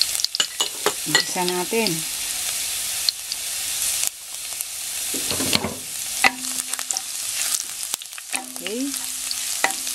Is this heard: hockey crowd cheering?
no